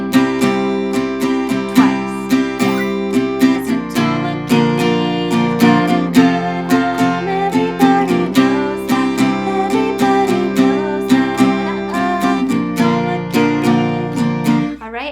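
Acoustic guitar chords strummed in a steady, brisk rhythm, with a voice singing along over the strumming throughout.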